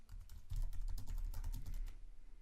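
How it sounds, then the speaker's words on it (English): Steady, fairly fast typing on a computer keyboard, with dense close-up key clicks running for about two seconds and then stopping, with no talk over it. "left click anywhere on the artboard and start typing"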